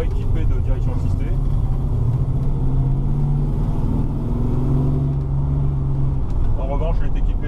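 A 1968 Camaro muscle car pulling away in first gear, its engine a loud steady low rumble close by inside the cabin, with someone talking over it throughout.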